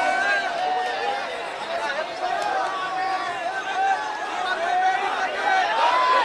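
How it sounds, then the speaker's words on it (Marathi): A large, dense crowd mills and chatters at a political hunger-strike gathering, a continuous loud babble of many voices with shouts rising and falling throughout. "या ठिकाणी गर्दी खूप आहे"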